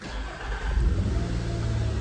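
A Nissan Xterra engine, just cleared of misfire and catalyst efficiency codes, cranks and catches, then runs at a steady, close, rumbling pace for the rest of the two seconds.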